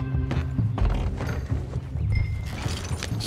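Rhythmic horse hoofbeats in the video game Red Dead Redemption 2 clip-clop at a steady trot, mixed with soft mechanical creaks and clatter, with game-like ambience behind.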